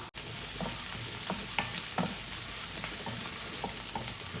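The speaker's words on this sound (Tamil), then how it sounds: "எண்ணெய் சூடானதும் கடுகு கொஞ்சம் உளுந்து கொஞ்சம் கருவேப்பிலை ஒரு பெரிய வெங்காயம் இந்த வெங்காயம் கொஞ்சம் வதங்கட்டும்" Onion sautéing in hot oil with mustard seeds, urad dal and curry leaves for a snake gourd poriyal, a steady close sizzle with soft stirring scrapes throughout.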